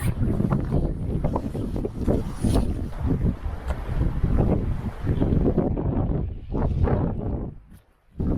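Steady wind gusting across an exposed mountain path on Snowdon's Pyg Track, a loud, continuous roar buffeting the microphone, easing briefly near the end.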